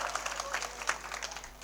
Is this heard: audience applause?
yes